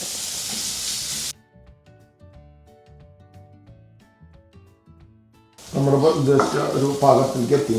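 Sliced onions sauté in a pan, a broad crackling sizzle at the start, a quieter stretch of faint clinks and low kitchen noise, then a loud dense frying sizzle returning for the last few seconds.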